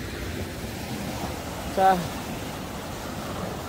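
High ocean waves at a Korean shoreline during trap fishing for sandfish, heard as a steady rushing wash of surf and wind noise throughout, with a brief spoken interjection near the middle.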